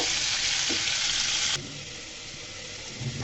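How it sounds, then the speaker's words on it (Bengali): Chicken pieces for a curry frying in a pan, a loud, dense close sizzle that drops a little midway and continues steadily, with faint stirring sounds and no talking. "দেখুন এভাবে বেজে নিলে ঢাকনা দিয়ে দিলে মাংস তো তাড়াতাড়ি সিদ্ধ হয়ে যাবে আর সুন্দর মতো ভাজা হয়ে যাবে"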